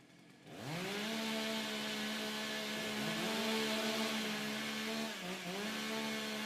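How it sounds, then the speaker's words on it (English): Competition chainsaws warming up at a STIHL TIMBERSPORTS British Rookie Championship roar in after a moment of quiet and hold a loud, steady high-pitched drone, dipping briefly as the throttle eases before surging again. "Warm up your saws."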